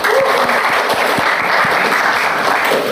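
Steady applause fills a classroom, many hands clapping together in a dense, even wash that holds at full strength from start to finish, with no voices over it.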